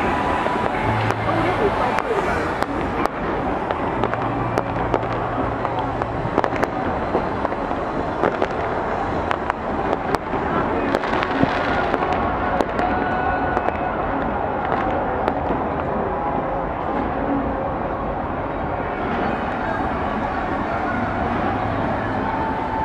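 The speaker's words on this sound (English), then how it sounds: "Everybody popping fireworks." New Year's Eve fireworks at Las Olas in Fort Lauderdale, Florida crackle and pop continuously, with dense repeated bangs near and far and a constant roar of distant explosions throughout.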